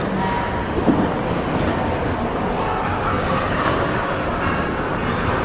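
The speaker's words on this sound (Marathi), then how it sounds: "हे बघा स्काय ट्रेन आहे छोटी आहे एकदम" A small airport sky train running between terminals rolls along steadily with a continuous low rumble and faint rattling, heard from inside or close by, with no voices.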